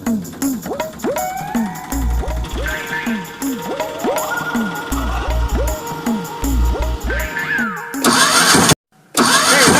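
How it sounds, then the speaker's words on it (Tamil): An auto rickshaw engine in Virudhunagar cranks over and over without catching, a loud rhythmic chugging of repeated starter attempts with brief revs, close by, ending in a short sputter and a sudden cutout. "வண்டி ஸ்டார்ட் ஆக மாட்டேங்குது"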